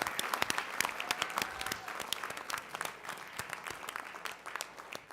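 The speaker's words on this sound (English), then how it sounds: "one more rousing round of applause for all of our students who received the recognition tonight" Audience at a school board of education meeting gives a round of applause for students receiving recognition, a steady, moderately distant patter of many hands clapping throughout.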